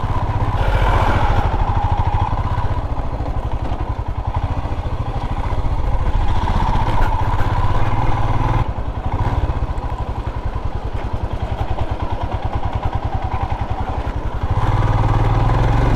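A Royal Enfield Himalayan motorcycle thumps along an unpaved mountain road in Himachal Pradesh, its loud, steady single-cylinder chug mixed with rattling clatter and wind rush throughout.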